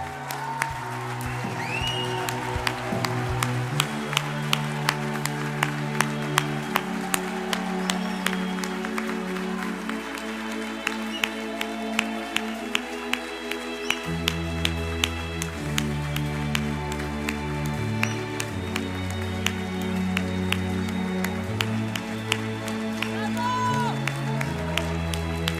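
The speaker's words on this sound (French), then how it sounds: "bien vouloir se lever pour une dernière ronde d'applaudissements" A standing audience at a gala evening gives a final round of applause, steady dense clapping running throughout, layered under sustained music.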